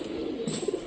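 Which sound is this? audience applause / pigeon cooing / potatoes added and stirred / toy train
pigeon cooing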